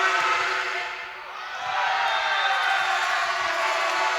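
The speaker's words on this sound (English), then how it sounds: "Many of these players would have played in front of a big crowd. Very noisy as well." Crowd noise in a sports hall at a men's university volleyball championship final: a loud, sustained roar of voices and cheering that dips briefly then swells back, steady and enveloping throughout.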